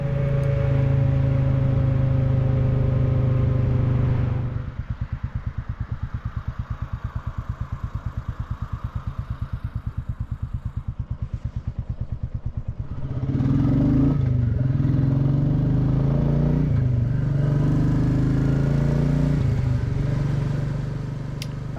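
Royal Enfield Classic 350 single-cylinder motorcycle on the road: a loud, steady engine drone with a rapid rhythmic thump in the middle section, then a return to a smoother roar with gear changes and rising revs.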